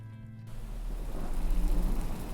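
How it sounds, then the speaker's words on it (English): Steady rain ambience from the video game The Excavation of Hob's Barrow. It starts abruptly and settles into a soft, continuous hiss with a low rumble underneath, and no voices are heard. "I really love the atmosphere, the rain, the soft tones of the ambience."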